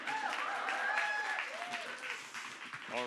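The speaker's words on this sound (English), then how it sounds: "You can clap if you want." Panel audience at a multicultural producers roundtable clapping steadily, with a voice talking over the applause and a brief melodic tone near the end.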